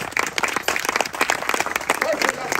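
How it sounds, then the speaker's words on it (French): A church congregation claps and applauds together, a dense burst of hand claps with crowd noise that rises and falls across the whole span. "Applaudissez pour la parole de Dieu."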